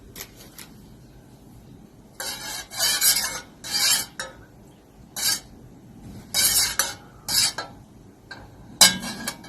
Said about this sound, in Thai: แล้วเรามาเริ่มกวนน้ำกะทิก่อนนะคะ เปิดไฟเบาๆนะคะ